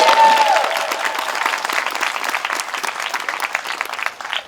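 Guests at a graduation ceremony give a graduating student a round of applause. The clapping is sustained and fairly close, with a brief whistle at the start, and it tapers off toward the end.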